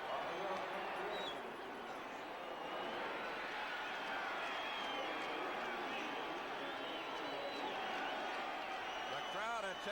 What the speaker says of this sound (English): The crowd at Texas Stadium has gone absolutely wild.